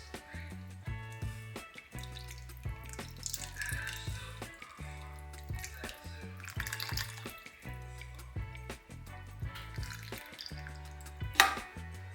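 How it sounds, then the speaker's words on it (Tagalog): Milk pours in a steady liquid stream into a pot of Filipino chicken macaroni soup with shredded chicken, a soft, close trickle heard under light background music. "lagyan na natin ng gatas"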